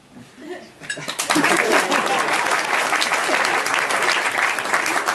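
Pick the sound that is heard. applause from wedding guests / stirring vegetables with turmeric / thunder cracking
applause from wedding guests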